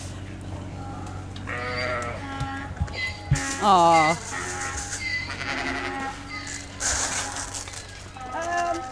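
Goats bleat repeatedly in a park feeding area, wavering calls rising over a busy background of nearby voices and general outdoor bustle.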